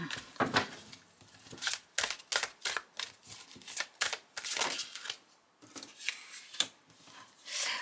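Tarot cards are shuffled and drawn close by, a run of crisp riffling bursts and soft papery slaps with short pauses between, with no talk over them.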